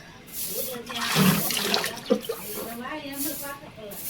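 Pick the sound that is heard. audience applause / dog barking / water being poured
water being poured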